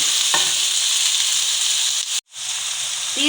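Chicken hearts frying with ginger garlic paste and chopped green chillies in a pan, giving a steady close sizzle and hiss with a brief stir and a short clatter near the end; no talking.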